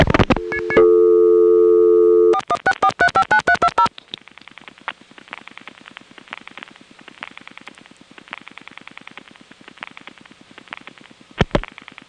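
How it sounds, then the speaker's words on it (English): A Step-ESS telephone exchange answers a number readback with a steady high tone, then a string of short dialing pulses and a rapid, repeating busy signal, clear and close on the line. "it'll come back with high tone plus busy signal"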